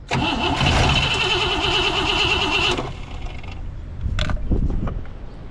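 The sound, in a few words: engine running, fuel line hitting alternator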